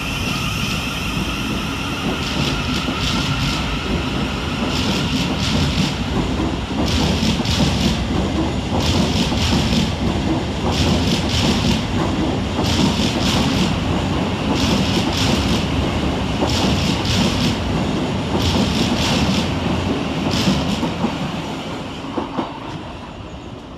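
A Govia Thameslink electric train (class 700) pulls out of Redhill railway station, its steady loud rumble and wheel noise filling the scene with rhythmic clicking over rail joints, then easing slightly as it draws away.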